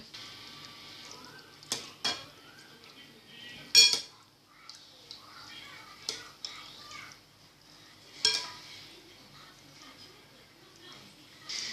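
A ladle scoops noodles out of cooking water, giving scattered metallic clinks and scrapes against the pot with soft watery movement between them, at moderate volume and with no talking.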